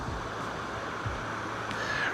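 Rushing water at Bear Falls waterfall in Chickasaw, a steady broadband roar of falling and flowing water that holds close and even throughout, with no voices.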